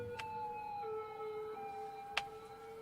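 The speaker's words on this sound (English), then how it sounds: "there goes an ambulance" A faint ambulance siren in the Cities: Skylines city-building game wails in steady, wavering tones, with a couple of sharp clicks over quiet background and no talk.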